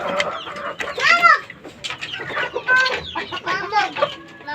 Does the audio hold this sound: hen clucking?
yes